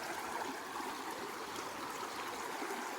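A mountain stream spills over a small waterfall in a trout fishing spot, giving a steady, full rushing and gurgling wash of water, close and continuous with no talking.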